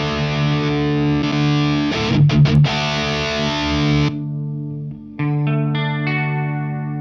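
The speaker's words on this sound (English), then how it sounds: "as soon as I switch the line selector, we're back to our crunch sound" Crunchy, overdriven electric guitar chords ring out steadily, with a few quick strummed hits midway, then a brief drop before the distorted chord picks up again.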